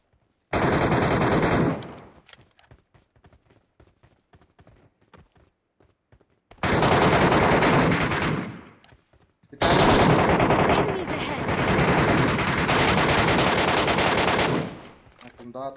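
Automatic rifle fire in a PUBG Mobile Metro Royale match comes in three long, loud, sustained bursts separated by quieter gaps of scattered shots and footsteps.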